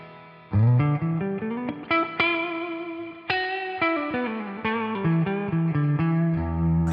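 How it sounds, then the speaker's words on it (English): Electric guitar played through a NUX Cerberus pedal with a huge reverb effect, a run of plucked notes and chords ringing out into long, washy tails, loud and alone without speech. "This is a huge reverb."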